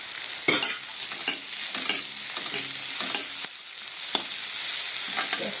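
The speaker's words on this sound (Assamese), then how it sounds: "পিঁয়াজখিনি ভজা হ'ল, তাতে মই আদা নহৰুখিনি দিলোঁ" Onions frying in oil with ginger and garlic added, a dense close sizzle with repeated scraping stirs of a spoon against the pan.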